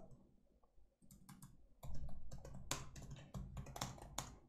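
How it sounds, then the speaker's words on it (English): Numbers are typed on a computer keyboard in a run of close, crisp key clicks, sparse at first and then quicker and denser. "We just have to type in the total"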